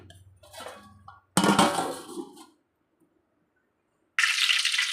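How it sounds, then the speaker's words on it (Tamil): In a home kitchen, a plate is set down as a lid on a cooking pan: a short clatter of metal and crockery, a pause and near silence, then another bright scraping clink. "இப்போ ஒரு தட்டு போட்டு மூடிக்கலாம்."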